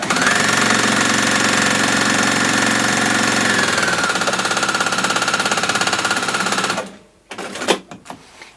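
Sewing machine stitching through waxed fabric for a slouchy bag, a loud continuous fast mechanical whirr of needle strokes that runs steadily for several seconds, then stops abruptly, leaving a few soft handling knocks.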